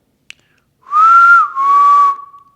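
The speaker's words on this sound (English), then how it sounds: "You want to give another whistle?" A person whistles a short two-phrase tune inside an old county jail, the clear tonal melody rising then settling, close and alone after a brief click, with no talking.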